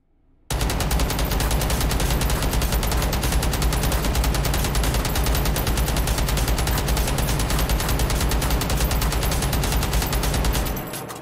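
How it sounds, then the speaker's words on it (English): Sustained machine gun fire in Hot Dogs, Horseshoes & Hand Grenades, an unbroken, loud, rapid burst of shots that runs nearly eleven seconds before cutting off. "it's always fun firing off machine guns in this game"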